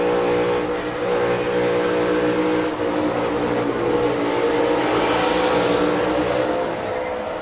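NASCAR race car engines roaring during the Coca-Cola 600, a loud continuous drone of multiple engines with rising and falling revs as cars run in traffic, heard steadily throughout without talk.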